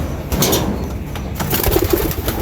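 Racing pigeons being let out of their loft, with soft cooing and scattered wing flaps close by amid a busy outdoor background, no talking.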